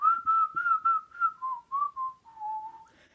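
A person whistles a trailer song tune alone, a close, clear melody of sustained and stepped notes sliding gradually lower over a few seconds.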